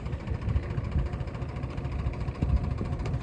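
A Mahindra 265 DI tractor engine runs steadily nearby, a continuous low rumbling drone with a slightly uneven throb, a few louder pulses rising briefly out of the constant mechanical hum.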